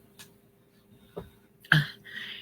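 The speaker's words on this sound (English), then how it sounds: "It's threatening to make me cough." A single cough bursts out near the end, preceded by a couple of small throat sounds and breaths in a quiet room.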